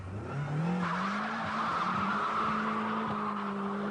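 Rover Coupe (Tomcat) with a Torsen limited-slip differential spinning its wheels, tyres squealing steadily over a loud, rising engine note, close and continuous with no talking.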